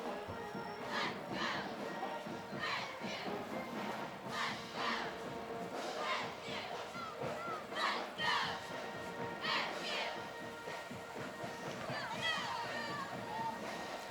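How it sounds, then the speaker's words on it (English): A homecoming parade group cheers and shouts in bursts outdoors, with children's voices mixed into the crowd noise and a lively, uneven rise and fall throughout. "let's hear a little cheer from them"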